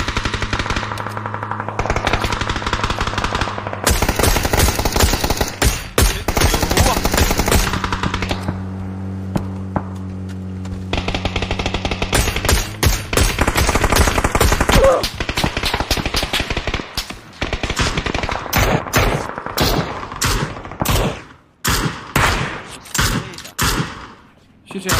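Rapid, loud bursts of machine gun fire in an online shooting game, with sustained automatic volleys and sharp single shots, mixed with game sounds while someone talks over it.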